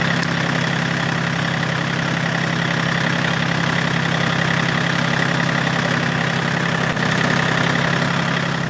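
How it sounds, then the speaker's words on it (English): A diesel engine idles up close at a cabin, a loud, steady low rumble with a faint knocking texture that holds unchanged for several seconds apart from one brief dip. "Love the sound diesel engine."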